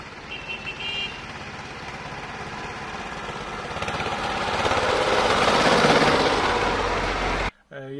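A tractor engine running steadily during a harvest festival road trip, a loud continuous diesel rumble that swells slightly midway before cutting off abruptly near the end.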